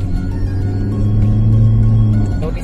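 A vehicle running in top speed mode gives a loud, steady low engine drone and rumble, close up, holding even for a few seconds with no talk over it.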